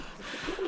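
A pigeon in a backyard chicken coop gives a single brief coo, heard close but soft against a low, steady background hiss.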